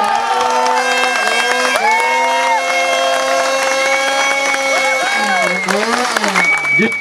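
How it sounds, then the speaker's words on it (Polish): Crowd at a motocross track in Osielec applauds and cheers, steady and loud for several seconds, with a motorcycle engine whining and revving through it. "Brawa dla wujka!"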